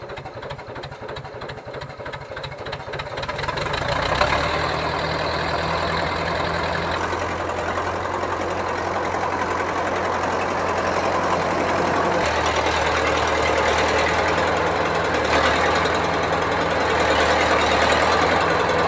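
A heavy diesel loader engine idles and then revs up, settling into a steady, loud, knocking drone that continues throughout.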